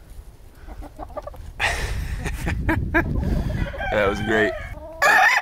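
Silkie rooster in a backyard flock crowing and clucking, a drawn-out crow rising near the end among other chickens, fairly close, with a person briefly speaking over it.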